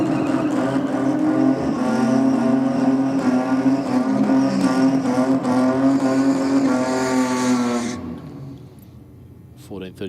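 A Ford Falcon and a nitrous-assisted Barra-powered ute drag race at a no-prep event in Australia: a loud, sustained engine roar for about eight seconds before it fades off, with a commentator's voice over it.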